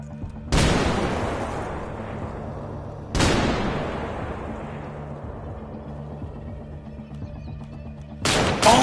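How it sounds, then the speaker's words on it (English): Grenade blasts during a ground firefight in Kunar Province: three sharp, loud detonations, each with a long rumbling decay, arriving several seconds apart with the last one cut short. "Oh shit, grenade."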